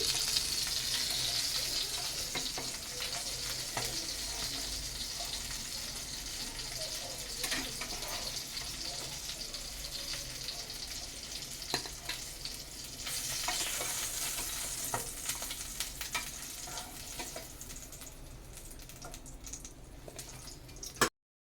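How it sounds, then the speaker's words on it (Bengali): Mourola fish frying in a pan for a pumpkin-leaf paturi dish, a steady close sizzle with occasional stirring and spatters running throughout, no talking. "আরও অল্প সময় ভেজে তারপরে নামিয়ে নেব তো এই মাছগুলি ভাজা হয়ে গেছে"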